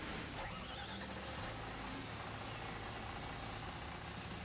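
A 2012 Volgren-built bus engine idles steadily with a deep, continuous rumble, loud and close, holding an even drone throughout.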